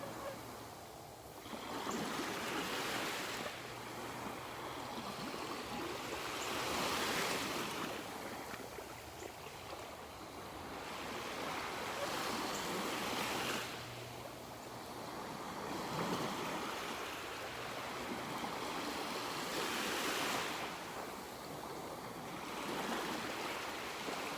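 Small ocean waves washing onto a beach in North Naples, Florida, rising and falling in slow surges every five seconds or so, with broad hissing surf and light wind, no talking.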